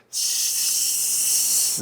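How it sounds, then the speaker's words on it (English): A steady, bright hiss of ground beef sizzling in a pot over medium heat, loud and close, running unbroken for a couple of seconds before cutting off. "Wait, can you hear it? There's a little bit of a sizzle."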